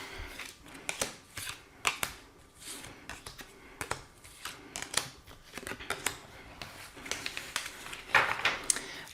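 Tarot cards are handled for a reading, with a run of close, quiet papery snaps, flicks and rustles at an irregular pace, some sharper taps near the end.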